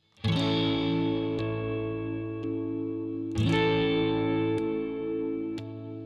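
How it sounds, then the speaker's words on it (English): An electric guitar, a Stratocaster, plays a chord strummed and left ringing, then struck again, with tonal shifts and small clicks as the pickup selection changes between strums. "when you strum a chord and then switch between those different modes"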